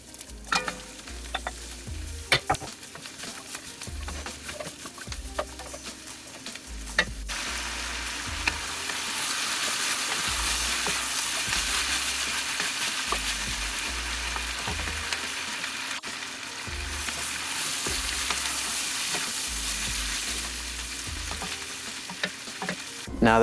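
Carrots and potatoes fry with celery and onions in a pot, a steady close sizzle with repeated stirring scrapes and occasional knocks against the pot, growing louder and denser partway through.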